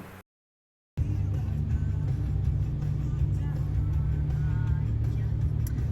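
A car drives up to a restaurant and racket club on Koh Samui, its engine a steady loud rumble heard from inside after a short cut of silence, with faint voices underneath.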